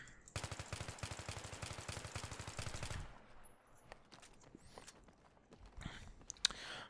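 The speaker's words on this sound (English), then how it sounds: "I'm probably going to burst fire quite a bit here." Rapid M4A1 rifle fire in Battlefield 3 rattles loudly for about three seconds, followed by quieter scattered clicks, footsteps and isolated shots in the game.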